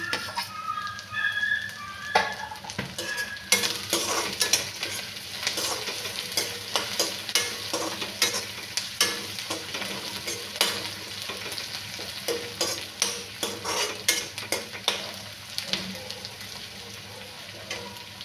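Chillies sauté in a pan for a stuffed bitter gourd dish, with a steady close sizzle and frequent scraping stirs throughout and no voices.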